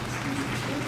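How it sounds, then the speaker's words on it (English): An audience applauds a guest's introduction on a talk-show-style stage, a brief burst of dense, steady clapping. "Cue the applause."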